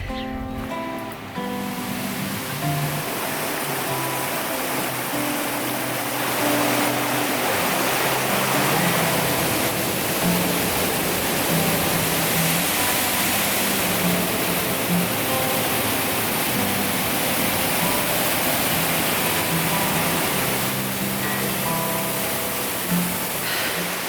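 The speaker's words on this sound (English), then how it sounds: "I think that waterfall is my second favourite in the whole of New Zealand" Steady, dense roar of a waterfall in New Zealand after a day of rain, heard close and continuous with a wide wash of rushing water and no voices.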